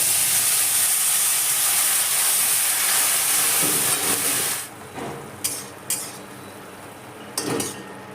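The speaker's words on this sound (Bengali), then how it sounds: "হালকা ভাজা হয়ে গেছে এবার আমি এর মধ্যে দিয়ে দেবো জল" Water poured into a pan of lightly fried tomatoes and eggplant for a prawn malaikari bursts into a loud, steady steaming hiss that drops away after a few seconds, leaving bubbling and a few sharp clinks of utensils.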